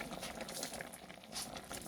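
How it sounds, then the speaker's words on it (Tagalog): Water boiling in a covered cooking pot on a stove, a steady close bubbling and popping patter that continues evenly throughout with no talk. "kumukulo na nga."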